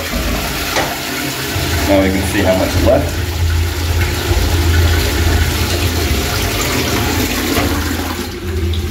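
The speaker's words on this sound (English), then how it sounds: "All right, so I'm gonna flush the toilet." A toilet flushes loudly during a sewer clog inspection, a sustained rushing swirl of water draining for several seconds while someone speaks briefly over it.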